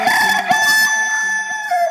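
A loud rooster crow rings out as a sound effect within a Bengali election nasheed, the drawn-out cock-a-doodle-doo blending with sustained musical tones.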